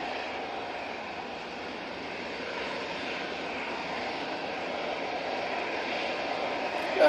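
Aircraft on a positioning flight near Manchester Airport, carrying little fuel, its engines giving a steady, distant broadband drone that holds evenly throughout with a slight swell at the end.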